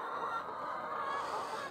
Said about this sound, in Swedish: Här är fullt med hönor som tvätta sina fjädrar.